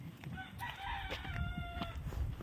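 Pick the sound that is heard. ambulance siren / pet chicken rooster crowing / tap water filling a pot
pet chicken rooster crowing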